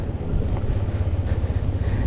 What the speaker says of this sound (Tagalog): Kaya lang malakas ang hangin.